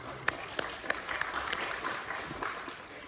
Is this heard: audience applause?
yes